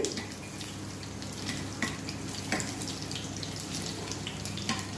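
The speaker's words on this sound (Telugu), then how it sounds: "నెక్స్ట్ ఆవాలు కొంచెం జీలకర్ర కొంచెం ఇవి బాగా వేగనివ్వండి" Mustard seeds and cumin fry in hot oil in a pan, giving a continuous close, even sizzle speckled with small pops and crackles, with no voices.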